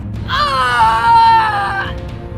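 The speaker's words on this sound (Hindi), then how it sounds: "सुहाना दर्द के मारे पेट पकड़े जोर जोर से चीख रही थी" A girl in a Hindi animated horror story screams in pain, a loud, sustained high wail lasting about a second and a half over a low background rumble.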